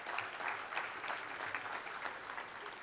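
Applause from a conference audience, a dense wash of many hands clapping at moderate distance, steady throughout with faint crowd murmur.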